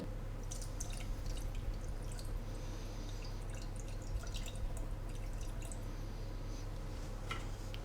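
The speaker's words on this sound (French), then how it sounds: "je vais continuer de presser afin d'obtenir 100 grammes de jus" Lemons are squeezed by hand for juice, giving faint wet squishing and scattered drips over a steady low background hum, close but quiet.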